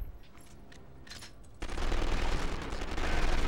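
Gunfire in the video game 24: The Game, quiet scattered shots at first, then a sudden loud sustained burst of rapid automatic fire that keeps rolling to the end.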